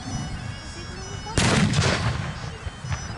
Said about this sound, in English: More mortar fire going into the Allies.